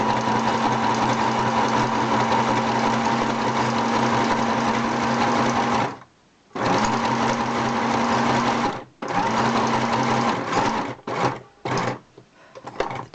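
Domestic sewing machine running a zigzag stitch, a steady loud close mechanical whir that stops briefly twice before finishing in short stop-start bursts.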